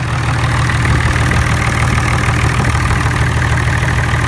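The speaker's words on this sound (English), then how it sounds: "I had this thing running now for 45 minutes, back and forth, back and forth." An IH Farmall 560 tractor engine runs steadily at idle, a loud, continuous low rumble with an even mechanical chug and no voices over it.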